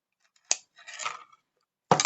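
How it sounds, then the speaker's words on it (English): Snips of fine silver wire being cut for jingly ball hoops, with a sharp click, a softer rustle of handling, then another crisp cut at the end; close and fairly quiet. "I guess I'll just cut all of them now."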